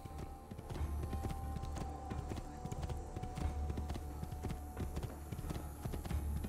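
Horse hooves clip-clop steadily at a walking pace in Assassin's Creed 2, a continuous run of soft close taps over a low game ambience.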